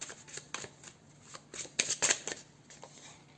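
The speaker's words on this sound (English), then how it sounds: "I'm gonna shuffle it a little bit and see what comes through for your future spouse" A deck of tarot cards is shuffled close to the microphone, giving a quiet run of crisp riffling and flicking bursts, uneven in rhythm and louder near the middle, with no talking.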